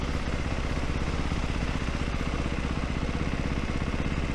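A Ducati Hypermono single-cylinder motorcycle engine runs with a steady, fast, pulsing beat and mechanical clatter, loud and close throughout.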